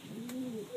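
A male pigeon gives a single soft, rolling coo that rises and then falls, close and quiet, with a faint click near the end.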